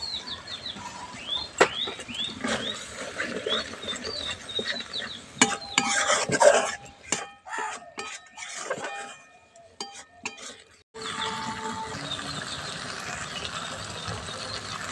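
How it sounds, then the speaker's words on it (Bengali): Spice paste with green peas is stir-fried in a pan for an onion- and garlic-free dhaba-style matar paneer: repeated scraping and clinking of a spoon against the pan, with sizzling, and a brief quieter pause before the stirring resumes. "মটরশুঁটিটা দিয়েই মশলাটা ভালো করে একটু কষিয়ে নেব।"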